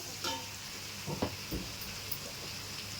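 Turmeric frying in a pan for a Nellore-style mango fish curry, a soft steady sizzle under a few stirring scrapes and taps, close and alone with no voices.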